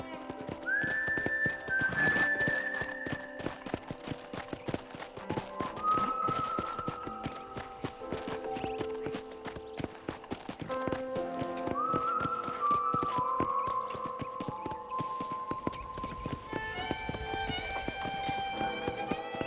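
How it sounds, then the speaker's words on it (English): A horse trots along with rhythmic clip-clop hoofbeats in the Red Dead Redemption Western video game, joined by occasional whistling and a whinny over a moderate background. "I picked out a fine horse for you."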